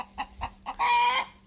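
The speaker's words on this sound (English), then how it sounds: "we got a chicken in there that just laid an egg back in my clean room again" A hen that has just laid an egg in a workshop clean room gives several short, sharp clucks, then one loud, drawn-out squawk, close by and with no voices.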